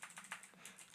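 Quick, light keystrokes on a computer keyboard, about five or six clicks in a second, close and fairly faint with no talk.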